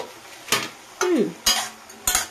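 Potato pieces and jackfruit seeds are sautéed in a pan, with four distinct scraping stirs over a low sizzle.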